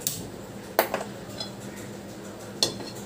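A metal kadai wok set down on a kitchen stove to heat oil for frying okra, giving a few faint, sharp metallic clinks over a quiet background.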